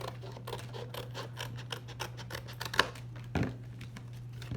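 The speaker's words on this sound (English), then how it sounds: "You're just going to cut off the strip." Scissors snipping across a paper sentence strip, a run of quiet, close, rapid cutting strokes over a low steady hum, ending with a couple of louder clacks.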